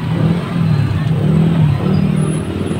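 Motorized tricycle engine droning steadily close by on a hot street in front of a church, a continuous loud rumble that swells slightly as it passes.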